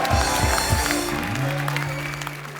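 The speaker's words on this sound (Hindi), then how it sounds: "तो एक बार काजल जी के लिए जोरदार तालियां" A studio audience on a comedy show applauds with a dense wash of clapping that slowly fades, while low thumps and a musical tone sound underneath.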